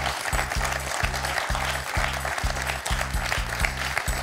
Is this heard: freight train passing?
no